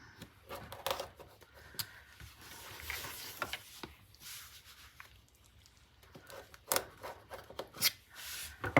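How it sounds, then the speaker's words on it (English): Scissors snipping and trimming the ends of a sewn zipper, a series of irregular close, crisp cuts and rustling fabric handling, louder clicks bunching toward the end. "we can do a little trimming of our zipper here"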